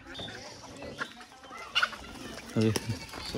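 Village chickens cluck and call a few times, with one louder squawk near the end, amid low background voices and farmyard noise in rural Assam.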